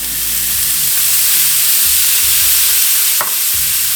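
Garlic hits a hot pan of vegetables and duck in a stir fry, giving a steady loud sizzle with scraping stir strokes and a brief sharper hiss near the end, no voices.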